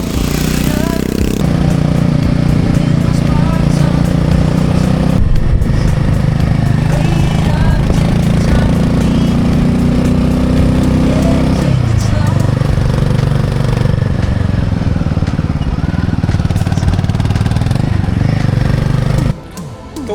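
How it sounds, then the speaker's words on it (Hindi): A motorcycle rides a mountain road in Arunachal Pradesh from Sangti Valley toward Tawang, giving a loud, continuous engine drone with wind rush for about twenty seconds before it drops away at the end. "सांगती वैली विजिट करने के बाद में हमारी बाइक मूव करती है तावांग की तरफ।"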